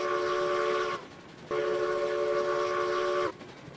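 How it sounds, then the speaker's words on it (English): Steam locomotive whistle in the Railroads Online train game, two long harmonic blasts, the first about a second, the second near two seconds, loud and close with no talk. "water out of the cylinder cocks and blow the whistle."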